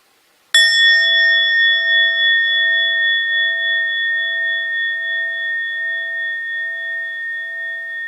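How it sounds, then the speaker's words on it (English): A mindfulness bell struck once in a meditation hall, ringing out in a single bright, sustained tone that decays slowly over several seconds, clear and alone. "And when you hear the full sound of bell"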